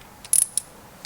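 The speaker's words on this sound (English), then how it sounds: "And then I just kind of loosen them each gradually all the way around." An Allen wrench loosens the clutch cover screws on a Yamaha XS motorcycle in an old garage, giving a few short, sharp metallic clicks and ticks close by, separated by quiet gaps.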